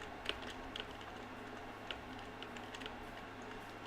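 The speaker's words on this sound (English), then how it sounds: "I've been told that the keyboard and mouse sounds are pretty satisfying to listen to." Faint, sparse clicks from a computer keyboard and mouse during Minecraft Bedrock play tick out irregularly in a quiet room, a few sharper taps standing out over low background hum.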